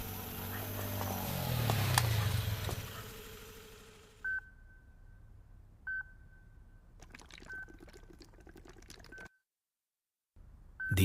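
In a Hindi film scene, several short electronic tones sound one after another like telephone keypad dialing for an ambulance, following a louder burst of noise and ending in brief silence.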